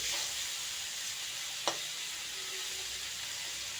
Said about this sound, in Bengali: বন্ধুরা দেখো আলুগুলোও ভাজা ভাজা হয়ে গিয়েছে